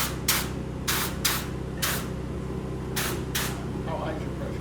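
A contractor's spray gun puts out short hissing bursts, about seven in a row, each under a second, over a constant mechanical hum.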